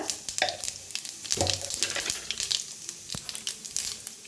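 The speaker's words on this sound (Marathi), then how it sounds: "आपलं मोहरीच तेल आहे म्हणताना चांगलं गरम करून घेतलेलं आहे त्याच्यात टाकूया मोहरी" Mustard and cumin seeds hit hot mustard oil in a pan, giving a steady crackling sizzle scattered with sharp pops and spits, close and moderately loud, with no voices.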